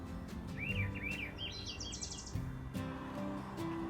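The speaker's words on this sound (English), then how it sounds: "And listen to the birds." Several birds sing and chirp in quick, high, warbling phrases, moderately close, over a quiet outdoor background with a low steady hum, near a lagoon at Prairie Redwood State Park off Highway 101.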